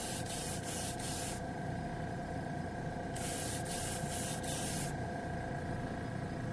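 Paint spray gun spraying onto a test spoon, a close airy hiss in several short bursts: three quick puffs, a pause, then a longer spray followed by a few more short bursts over a steady background hum.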